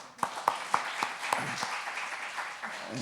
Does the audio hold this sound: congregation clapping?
yes